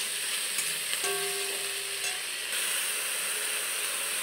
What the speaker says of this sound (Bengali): টমেটোর কুচিগুলোকে দিলাম, দিয়ে এবার বেশ ভালো করে নাড়াচাড়া করে নেব।